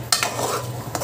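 Ginger, garlic, chilli, onion and tomato masala fried in oil and stirred in a pan: a close, loud, steady sizzle with a couple of spoon scrapes against the pan, with no voices.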